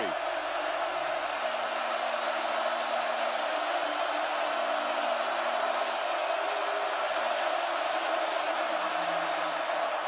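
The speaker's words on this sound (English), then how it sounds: "Crowd comes alive on 3rd down and 3." Football stadium crowd at a Washington State at Oregon college game roaring on third down, a broad, steady wash of cheering that fills the whole stretch without a break, loud and sustained.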